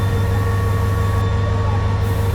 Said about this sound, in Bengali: এই যে আমাদের ট্রেনের এখনো ইঞ্জিন শান্টিং এর কাজ চলতেছে